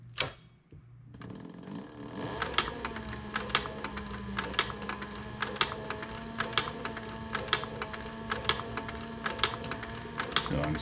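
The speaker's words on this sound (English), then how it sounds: "So I'm stitching one edge of the long nylon strap down" A sewing machine stitches along one edge of a long nylon strap, its steady motor hum punctuated by a fast, regular ticking of the needle that runs close and continuous with no talking.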